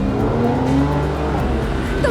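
A car drives fast, its engine droning loud and close with the pitch climbing briefly, and a faint tire hiss beneath.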